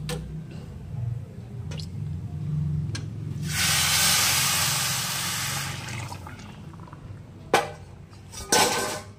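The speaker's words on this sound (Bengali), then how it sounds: "এবার আমি কিন্তু গরম জলটা দিয়ে দেবো।" Hot water poured into a pot of rice for basanti pulao in a home kitchen, a steady rushing splash lasting a few seconds over a low hum, followed by a couple of sharp clinks.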